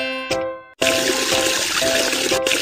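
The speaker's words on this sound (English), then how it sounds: "Turn off the tap. Be sure to save water." In a cartoon panda kitchen-cleaning game, a tap runs with a steady bright rush of water, following a short musical chime and a brief gap.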